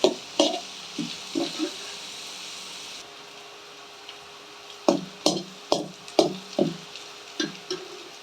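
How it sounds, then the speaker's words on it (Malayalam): Ginger, green chilli, garlic and shallots sauté in hot oil for a Palakkad-style mushroom curry, with a steady soft sizzle broken by repeated clacking stirs of a spoon against the pan, in quick bursts then a pause. "ഇഞ്ചി പച്ചമുളക് വെളുത്തുള്ളി ചെറിയുള്ളി എല്ലാം കൂടിയിട്ട് നമുക്ക് എണ്ണയിലിട്ട് മാറ്റി വഴറ്റിയെടുക്കാം"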